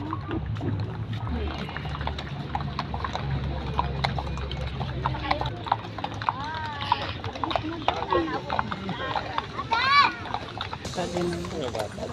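Rental horses for children clip-clop at a walk in Wright Park, Baguio City, steady hoof knocks mixed into a busy outdoor scene with people chatting and kids' voices around.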